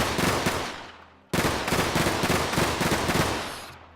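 Rapid machine gun bursts from the RimWorld video game, two dense strings of rattling shots separated by a brief gap, loud and close with a sharp cutoff near the end, no talk.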